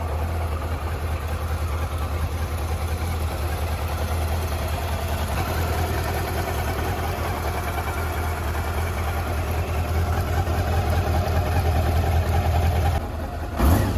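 A Honda CB400 Super Four motorcycle engine runs steadily throughout, a constant droning hum with no clear revving, loud and close, ending abruptly.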